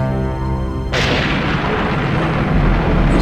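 A cannon shot fires in the co-op video game Serious Sam 3 BFE during a final boss fight, a loud boom with a long rumbling tail that cuts in over a sustained musical tone.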